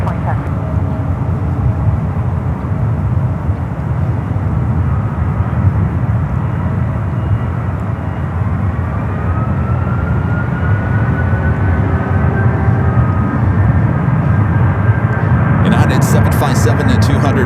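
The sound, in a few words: Boeing 777 rolling down runway 28 right for takeoff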